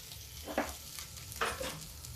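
Potatoes and peanuts roasting in a pan over a low flame produce a soft, steady sizzle, with two brief louder bursts of frying.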